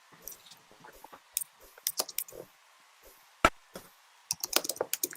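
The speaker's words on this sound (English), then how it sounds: "he's still typing it" Computer keyboard typing at a boxing event, heard as irregular bursts of crisp clicking keystrokes with pauses between them, close and fairly loud, ending in a rapid flurry.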